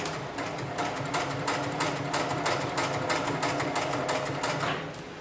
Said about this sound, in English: set my foot back down and continue sewing.